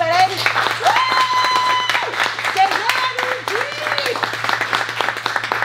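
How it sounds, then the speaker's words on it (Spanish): A crowd applauds loudly and continuously at the handover of a Jeep Grand Cherokee while a voice speaks over the clapping, with some melodic tones weaving through. "que se escuche pero fuerte el aplauso para Jenny, para Eric."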